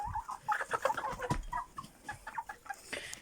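Soft clucking from a backyard flock of laying hens, including black and reddish-brown birds about four months to a year old, scattered and moderately close with no talk over it.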